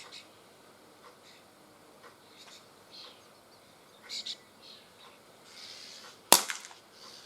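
A Gletcher NGT RF revolver airgun fires a single sharp crack at a can outdoors, loud and close, with faint birdsong and a quiet rustle before it.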